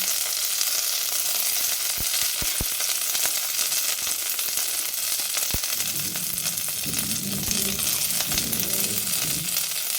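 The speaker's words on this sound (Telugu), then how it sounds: "బాగా కలిపి ఉల్లిపాయ వేసి వేయించుకోవాలి" Loud, steady frying sizzle of onions in a pan close by, with a few sharp taps of a utensil and a busier crackle toward the end.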